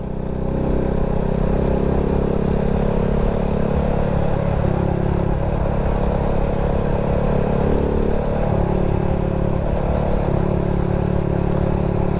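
A motorcycle rides a mountain road near Bacon District, Sorsogon City, with a steady, loud engine drone and shifting revs throughout, and no talk.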